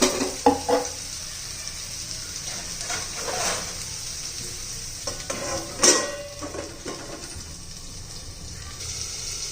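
Ridge gourd cooking in a pan is stirred with a utensil, bringing scattered scrapes and knocks against the pan over a low background sizzle, moderately close, with no voices.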